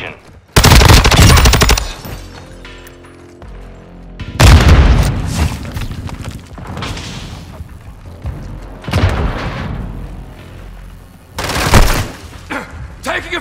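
Loud bursts of gunfire and booming explosions from the video game Call of Duty Modern Warfare II, with heavy blasts near the start, middle and end, rattling shots between them, and game voice lines mixed in.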